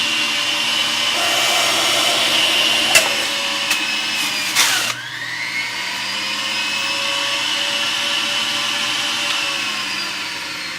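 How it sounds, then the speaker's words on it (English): Breville JE98XL Juice Fountain Plus juicer whirring loudly as it pulps a whole apple, a steady high-pitched motor drone broken by a few sharp knocks before the pitch drops and the motor keeps running. "So that was juicing the harder vegetables"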